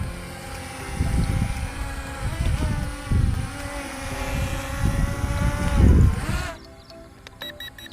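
An M3 Max Ultra camera drone flies fast nearby, its high, buzzing rotor whine rising and falling in pitch with several surges before dropping away sharply, leaving faint background noise.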